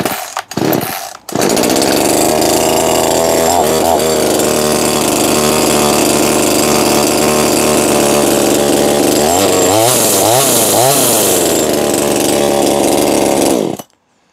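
BUKO 10 inch petrol chainsaw pull-started with a few short sputters, then catching and running loudly and steadily, with several quick throttle blips near the end before it cuts off abruptly.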